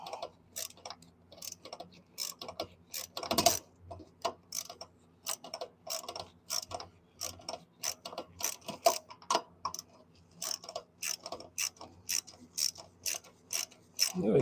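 A 10mm wrench working the intake manifold bolts on a 1986 Ford Escort, rapid metallic ratchet clicks in uneven bursts with small clanks, close and fairly quiet.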